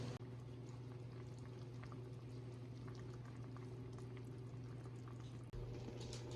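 Green beans drop into a pot of boiling soup, a soft bubbling and pouring wash under a low steady hum, with a brief clunk near the end.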